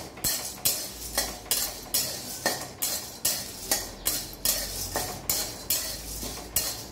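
Green cardamom and other spices for ghati masala are dry-roasted in a hot kadhai, a spoon scraping and clinking against the metal in quick, regular strokes about twice a second, with a faint sizzle between.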